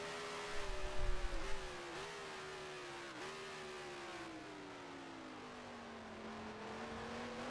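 A 1967-era Ferrari Formula One car in the Grand Prix Legends racing game, its engine held near the rev limit in a steady high-pitched wail that climbs and dips slightly through shifts, with a brief low thump early on.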